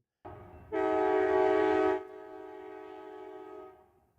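An Amtrak train at Macomb gives a long, loud, sustained horn blast over its low rumble, then the rumble carries on and fades away.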